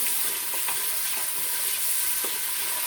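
Onions and garlic fry with salt in desi ghee inside a pressure cooker, giving a loud, steady, close sizzle that runs without a break, with a few soft scrapes of stirring and no voices.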